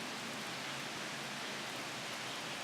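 Steady rain falls along the Appalachian Trail, a dense, even hiss of drops on surfaces throughout, loud and close with no voices.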